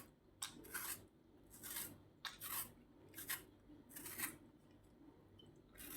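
A tomato is peeled with a knife, producing faint, short scraping and rasping strokes that repeat in irregular bursts, close up and quiet.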